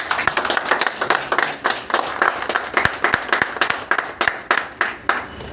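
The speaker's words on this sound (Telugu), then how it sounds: "కట్టి క్లాప్స్ ఇద్దాం" An audience at a speech event in Sr Nagar claps steadily, a dense run of sharp hand claps with a loose rhythm that continues throughout, fairly close and lively.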